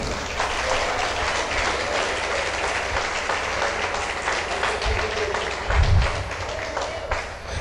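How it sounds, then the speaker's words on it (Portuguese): A church congregation applauds during a sermon, a sustained, dense wash of many hands clapping at once, loud and even throughout with no speech over it. "Quantos podem aplaudi-lo neste momento?"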